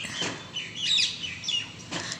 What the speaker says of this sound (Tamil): அதனால் கூட்டம் கூட்டம் கூட்டம் கூட்டமாக மைனா சத்தம் கேட்குது